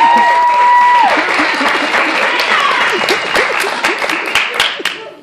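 A church youth group audience applauds the speaker's wife in a loud burst of many hands clapping that swells at once and slowly thins out over several seconds, with a few voices faintly underneath.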